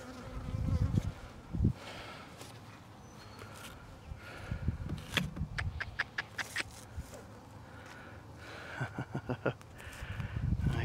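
Honeybees hum around a small nucleus hive, a low steady buzz broken by close crackles, taps and brushing sounds as frames are handled; no talking.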